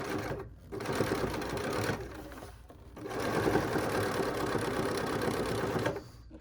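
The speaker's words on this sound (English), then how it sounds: "I'm going to stitch a few stitches forward, a few stitches back, and continue." A sewing machine stitches a few stitches forward and a few back on a fabric wishing tree ornament, its steady mechanical whir running in two long bursts separated by brief pauses.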